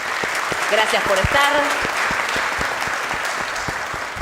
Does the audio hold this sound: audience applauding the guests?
yes